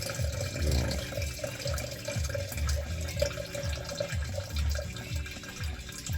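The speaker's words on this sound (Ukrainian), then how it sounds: "Впадає водичка." Water flows continuously during a cooling system flush on a Chevrolet Aveo, a steady close rushing and gurgling with a rhythmic pulsing throb underneath and no talking.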